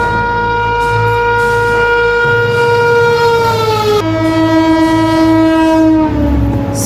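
Indian Railways 11414 Nizamabad Express running on its route, its loud horn blaring continuously in sustained harmonic tones that drop in pitch partway, over steady rumbling rail and carriage noise.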